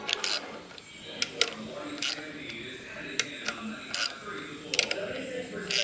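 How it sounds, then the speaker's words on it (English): Socket ratchet tightening bolts on a built 5.0 Mustang engine, a steady mechanical clicking with sharp ratchet bursts at irregular intervals, close and moderately loud over faint background noise. "Well, just get a little socket. Then just kind of go nice and evenly, tighten them down."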